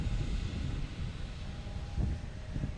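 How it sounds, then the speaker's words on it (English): A JetBlue Airbus A321neo arriving at Logan Airport gives a steady, loud engine roar with low rumble and wind buffeting, continuous throughout and no talking. "It's a A321 Neo."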